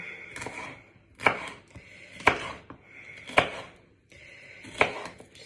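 A sharp kitchen knife chops slices into bite-sized pieces on a board for a pasta bake, four distinct close thuds falling in a steady rhythm with soft scraping in between.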